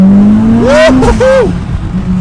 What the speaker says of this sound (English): we're taking the Evo 10 for a couple of street pulls to see what it's like